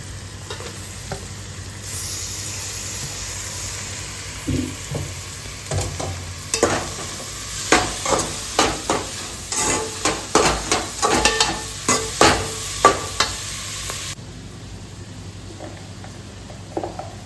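Small onions fry in a pan with a constant sizzle, while a spoon stirs them in a run of rhythmic scraping strokes through the middle.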